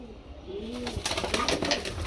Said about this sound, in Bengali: প্রতিটা লুটন কবুতর খুব সুন্দর লুটে ভাই।